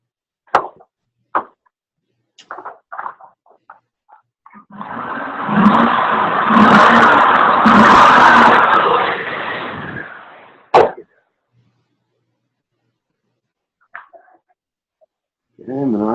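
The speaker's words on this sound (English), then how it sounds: "Let's give that engine a couple more punches." A Chevy Silverado engine revs hard in a sustained burst during a smog test, roaring for about five seconds after a few short sounds, then dropping to idle, with brief talk around it.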